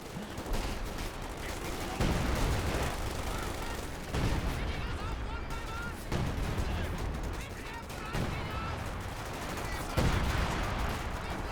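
An artillery barrage in Company of Heroes 2 falls on anti-tank guns: heavy shell impacts land every couple of seconds amid crackling gunfire, dense and loud, with a commentator talking over the battle.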